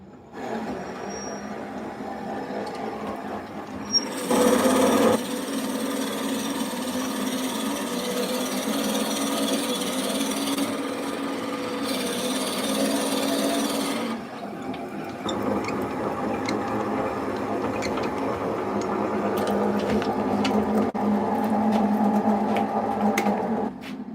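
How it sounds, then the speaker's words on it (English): A small drill bores a hole in a wooden miniature birdhouse, a steady whirring run that starts abruptly, pauses briefly, then continues with lighter mechanical grinding and clicks. "we're going to try to drill this hole"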